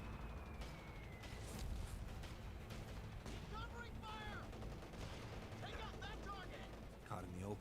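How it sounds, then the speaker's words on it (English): Mortar fire in Company of Heroes 3, a World War II battle game, with booming impacts and crackling gunfire spread through a busy battle mix, joined by voices from the game. "We got mortar."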